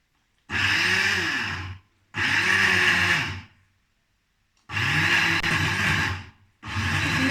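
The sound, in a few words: blender grinding amlou ingredients with honey and argan oil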